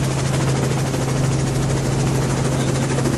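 A helicopter tracking a mountain bike stage race overhead, heard as a loud, steady rotor thrum with a constant low beat, continuous and close, no speech.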